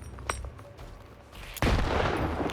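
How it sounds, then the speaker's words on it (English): A grenade goes off in the shooter game Stalker 2, a sudden loud close blast after a quieter stretch with a couple of faint shots, followed by a lingering rumbling roar. "I'm just gonna toss a grenade quickly"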